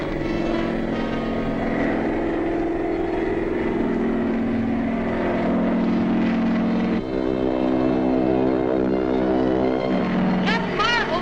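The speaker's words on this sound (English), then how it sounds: "I can hear the plane coming." A propeller airplane drones steadily over a bombing range in a 1941 adventure serial, a loud sustained engine hum with shifting pitch, while voices talk over it.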